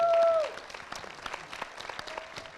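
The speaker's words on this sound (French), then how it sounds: "Mais applaudir Béatrice Dalle pour sa disponibilité et tout ça" An audience at a cinema masterclass applauds actress Béatrice Dalle, a soft scattered patter of clapping that follows a brief tonal sound and carries on fairly faintly.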